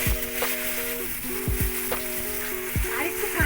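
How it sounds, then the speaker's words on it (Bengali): Strained mustard paste water, made from black mustard ground with salt and green chilli, hits a pan of fried drumstick vegetables and sizzles steadily, with occasional clinks of a utensil and a faint tonal hum running underneath. "সেটাকে জল দিয়ে গুলে ছেঁকে সেই জলটা দিয়ে দিলাম।"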